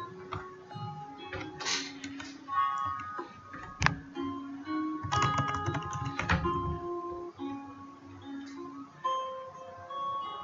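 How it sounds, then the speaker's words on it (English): Username and password being typed on a computer keyboard, a quiet, irregular patter of key clicks in short bursts and pauses, close by, with no talking. "So let me type my username and password."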